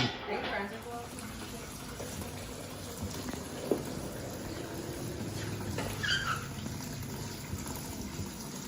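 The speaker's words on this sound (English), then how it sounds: "This water's not supposed to be coming out of there." Water leaks out of a machine, a thin running trickle and splashing over several seconds under light background noise, with a brief knock partway through.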